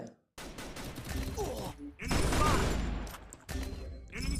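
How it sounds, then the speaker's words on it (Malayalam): Bursts of rapid gunfire in the video game Free Fire crackle in clusters, separated by brief quiet gaps, with a louder volley in the middle. "സൈഡിൽ നിന്ന് വെടി കൊള്ളുന്നു."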